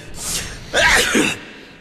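A character sneezes in The Witcher video game, a short breathy intake followed by one loud, close, explosive sneeze that fades quickly into quiet.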